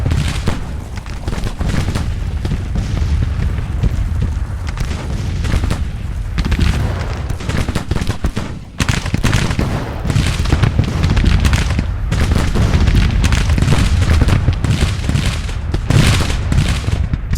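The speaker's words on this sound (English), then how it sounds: "So that the artillery can fire." Grand Tactician: Civil War battle audio delivers rolling cannon booms and crackling musket volleys, dense and continuous at high volume with heavier thuds recurring over about seventeen seconds.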